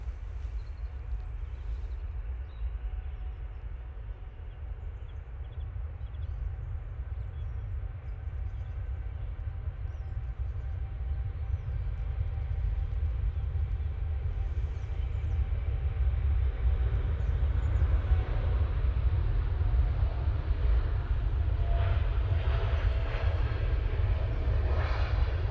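A Qatar Airways Dreamliner on its takeoff roll at Manchester Airport heading to Doha produces a distant, steady jet-engine roar that slowly swells louder over the course of the clip.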